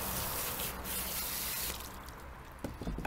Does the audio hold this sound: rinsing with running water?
yes